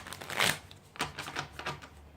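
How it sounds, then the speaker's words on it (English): A tarot card deck being shuffled by hand, giving a few soft papery riffles and flicks, close and fairly quiet, over about two seconds. "So I'm going to go ahead and shuffle these."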